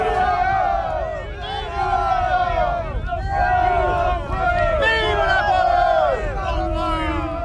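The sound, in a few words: Napoleon's troops cheering at Austerlitz bivouac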